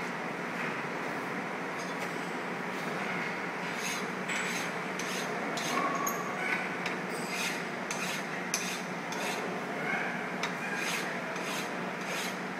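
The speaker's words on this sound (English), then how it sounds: "Nice even strokes with the file," Hand file drawn in even strokes along the edges of a freshly machined block to clear burrs, a continuous close scraping rasp with a steady rhythmic texture throughout.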